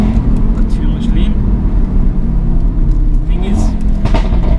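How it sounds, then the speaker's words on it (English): An Audi RS3 engine growling with a rally-style note while driving, loud and continuous from inside the car, with a rising rev near the end. "This thing's got the proper rally noise going on."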